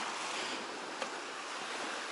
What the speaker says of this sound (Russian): Вот тут море есть. Там тоже море.